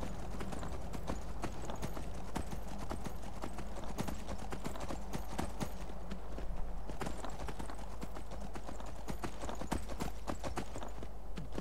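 Horse hooves clip-clop steadily throughout while riding through mountains in the video game The Elder Scrolls V: Skyrim, a close, continuous rhythmic clatter with a brief whinny-like hint and no talk over it.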